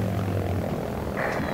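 Propeller warplane engine in the video game Battlefield 1943, Coral Sea map: a loud, continuous buzzing drone that shifts slightly in pitch near the end, with no talk.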